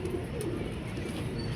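Pigeons coo softly in a low, steady murmur at some distance, continuous over a brief stretch.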